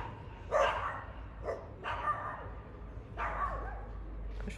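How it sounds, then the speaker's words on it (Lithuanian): A small dog barks outdoors near a pier, three or four separate yips spaced a second or so apart, moderately distant over a low background hum, with no talking. "Šuniukas."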